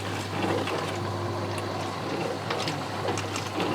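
A Midea MDWMINIBL mini countertop dishwasher draws water from its built-in tank, a continuous close-up watery pumping hum with a steady low drone and faint trickling, no voices.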